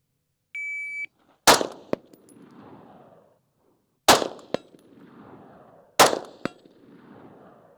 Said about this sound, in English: when you hear the buzzer, you have 5 hits that you have to make